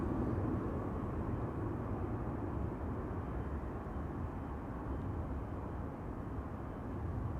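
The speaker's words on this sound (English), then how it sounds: "The left engine is already running. The right is slowly spooling up." KLM airliner jet engines at Amsterdam Schiphol Airport, one running and the other spooling up, give a steady broad low roar that stays even and continuous throughout with no voices over it.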